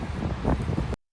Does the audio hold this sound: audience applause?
no